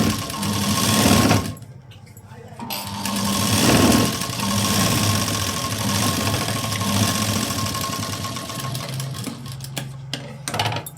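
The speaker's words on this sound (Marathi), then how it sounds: "इथे मी डबल शिलाई देऊन घेते" Sewing machine running a double line of stitching, a fast mechanical whir in long bursts with short pauses between runs, close and steady.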